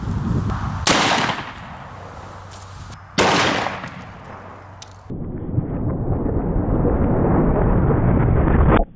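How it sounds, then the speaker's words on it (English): Two loud gunshots from a .44 Magnum revolver firing 240 grain hollow point rounds, sharp cracks about two seconds apart, each followed by a short decay, then steady wind noise buffeting the microphone outdoors. "now we're gonna shoot the 44 Magnum. First up is the 240 grain hollow point"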